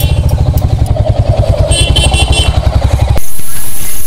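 Motorcycle engine at a toll booth on the Purvanchal Expressway, a loud, close, steady pulsing throb for about three seconds that then cuts off, leaving a high steady hiss.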